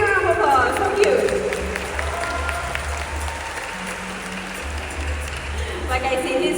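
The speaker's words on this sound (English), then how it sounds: "give me a big round of applause" A crowd at a night safari show claps in a dense, steady patter that runs throughout, mixed with cheering, under a loud voice addressing the audience.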